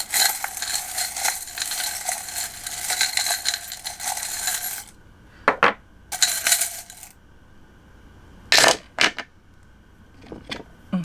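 Small metal tarot charms are shaken together in a continuous jingling rattle for several seconds, followed by a few separate sharp clinks as individual charms drop onto a surface.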